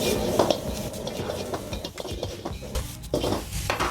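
Vegetables fry in a hot wok for salt and pepper chips, with a soft sizzle under busy scraping, clattering and tossing of metal on metal.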